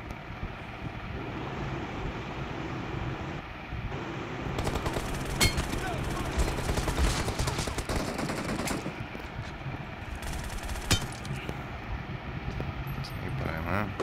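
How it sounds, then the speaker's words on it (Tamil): Video game gunfire including sniper shots, heard as dense cracking bursts and a few sharp louder reports over a constant rumbling background, with players talking over it. "சுட்டுறானுங்க அது ஸ்னைப்பர்"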